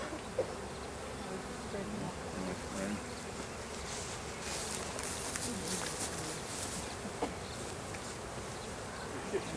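Dense, steady buzzing of a honey bee colony during an open hive inspection in a bee yard with plenty of drones about, a constant close swarm hum filling the whole stretch with a few brief knocks.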